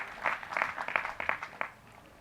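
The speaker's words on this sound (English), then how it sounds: "A nice round of applause for him." Applause from the audience at the Delaware State University 2015 commencement ceremony, a short burst of crowd clapping that tapers off after about a second and a half.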